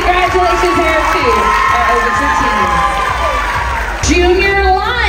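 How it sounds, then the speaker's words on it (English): Crowd at a dance competition awards ceremony cheering and whooping loudly, with shouting voices and a dipping tone over a continuous roar, sustained throughout. "you're going to give them a round of applause"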